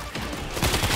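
Shotgun blasts in World War Z Aftermath, two loud close booming shots within a second over a dense wash of battle noise.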